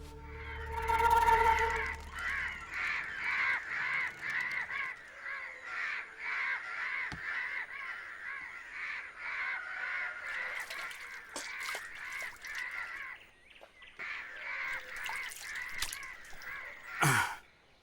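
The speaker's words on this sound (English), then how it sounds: "these crows are big trouble" Several crows caw repeatedly in a dense, overlapping chorus, loud and close throughout, with a brief louder burst of calls near the end.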